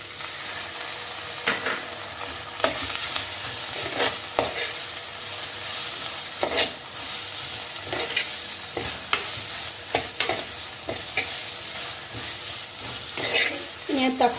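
Tomatoes sizzle and fry with sautéed onions in a pan for a coconut-milk crab curry, with steady hissing broken by repeated scraping stirs of a spatula, close and fairly loud, no talking.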